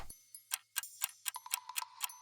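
Quiet, crisp ticking repeats at a brisk, slightly uneven pace, sharp little clicks on a near-silent background.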